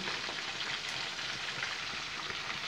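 Onion fries in hot oil in a pan, a dense, even crackling sizzle held steady and close throughout, with no talking.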